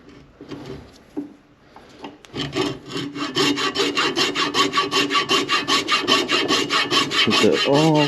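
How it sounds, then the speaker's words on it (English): Hacksaw cutting through material while fitting a Torqeedo 1103 AC electric motor to an NRS Kuda 126 kayak: a few tentative strokes, then a steady, loud run of rhythmic back-and-forth rasping, close up with no talk. "Gotta get my hacksaw. There's my hacksaw."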